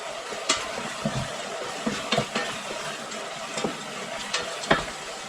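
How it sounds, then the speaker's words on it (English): Mushrooms stirred into a sizzling sausage risotto pan: a soft continuous frying hiss broken by repeated close scrapes and taps of a spoon against the pan, irregularly spaced, with no voices. "Now we add the mushrooms. Stir it nicely."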